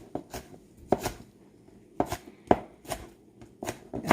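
A knife chops salad vegetables for a shrimp salad with about a dozen crisp, close strikes on a board, landing in uneven bursts with short pauses between, and no talking.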